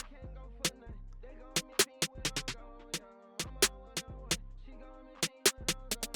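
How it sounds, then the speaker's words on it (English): Snare drum pattern in a hip-hop beat, with sharp crisp hits at an uneven rhythm and quick rolls in clusters, over a deep bass and melodic backing, fairly close and prominent. "the snares sound like this"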